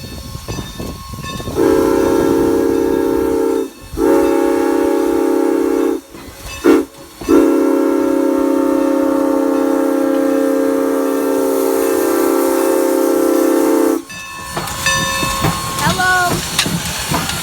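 A passenger train's SP 6 chime horn sounds in long loud sustained blasts at a platform, broken by brief gaps, then trailing off into an echo followed by faint rail noise.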